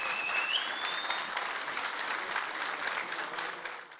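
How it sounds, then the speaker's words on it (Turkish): Applause at a mandate ceremony in Ordu, as a re-elected metropolitan mayor receives his certificate of election; steady, dense clapping from a crowd, moderately distant, fading slightly at the end. "Başkan Güler alkışlar eşliğinde mazbatasını aldı."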